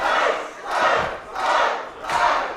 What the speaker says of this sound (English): Listen to this crowd. This is unbelievable.